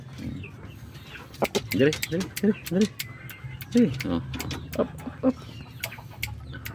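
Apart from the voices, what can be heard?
chickens clucking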